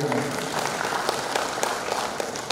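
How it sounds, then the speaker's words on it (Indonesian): Applause from a church gathering of HKBP elders and lay workers fills the room as a dense, steady patter of many hands, with a voice briefly audible underneath. "Tepuk tangan dulu untuk beliau."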